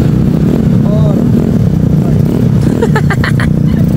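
Steady, loud motorcycle engine drone while riding on the way to Tagaytay, continuous under wind rush, with faint voices and a few brief horn-like tones near the end.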